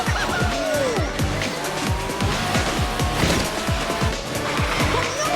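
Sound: racing car engine and tire skidding in a mobile racing video game

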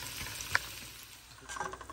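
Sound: onion cooking in a pan

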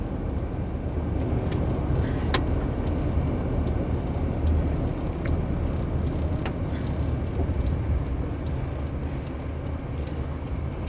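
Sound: car approaching on a road

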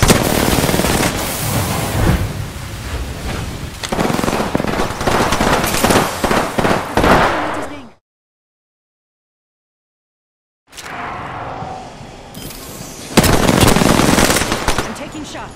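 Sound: gunfire in Apex Legends video game

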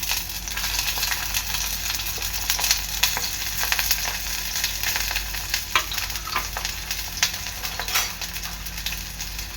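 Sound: onion and chilli frying in a pan

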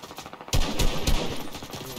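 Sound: gunshots and machine gun fire in a video game

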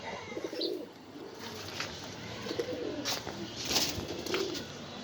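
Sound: pigeons cooing

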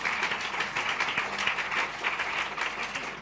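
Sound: audience applause in church service

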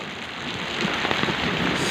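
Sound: heavy thunderstorm rain in a village

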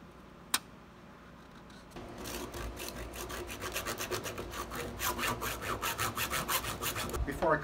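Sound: sawing thin-wall PVC pipe

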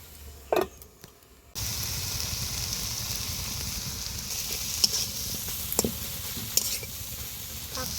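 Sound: stirring fish curry in pan before covering

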